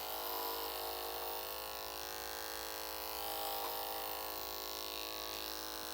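An electric hair clipper runs steadily during a side-part haircut, a continuous buzzing hum with a bright whine that holds level throughout, close by and alone without talk.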